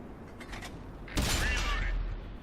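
A tank gun fires in a video game, one loud blast partway through that stays broad and sustained with a ringing mechanical tail, following quieter faint clatter.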